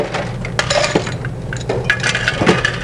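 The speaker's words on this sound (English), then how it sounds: "get yourself a little bit of ice and a pint glass" Ice cubes clatter into a pint glass at a bar counter while a cocktail is being made, giving a close run of sharp clinks and knocks over roughly three seconds.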